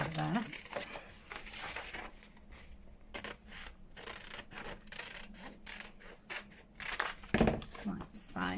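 Scissors cut around a paper envelope in a papercraft project, making soft, close snips and paper rustles at a quiet level.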